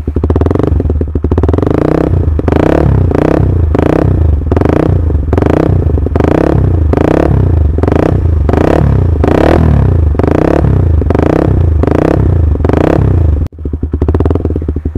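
Honda CB150R fitted with a DOS full-system muffler revved in repeated rhythmic blips, a loud, close, deep bassy exhaust rising and falling steadily, with a brief cut near the end before revving resumes.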